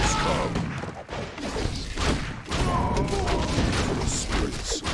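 An Orc mortar team battle in Warcraft III plays out as a dense, fairly quiet wash of thuds, clanks and scattered impacts that continues without pause, and no voices can be picked out.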